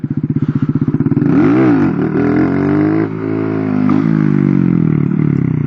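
A Honda Grom motorcycle revs up close and loud for a wheelie, the single-cylinder engine pulsing rapidly then rising and holding a strained, wavering drone with a brief dip midway.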